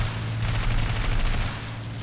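Turret machine guns fire in a dense, continuous rattle during an air battle in the War Thunder video game, steady and loud throughout over a low engine drone, with no talk.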